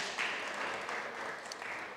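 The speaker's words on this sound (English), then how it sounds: "Can we give her a round of applause, please?" Conference audience applauding a panel moderator at a crypto event, a faint, steady patter of many hands clapping at a distance, lasting the whole two seconds.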